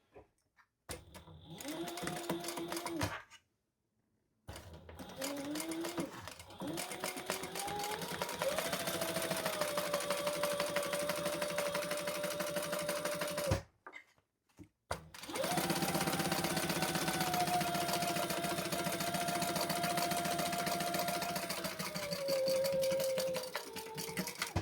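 Sewing machine basting fabric pieces for a bum bag, with a steady rapid mechanical whir in long runs broken by brief pauses, close and alone without talk.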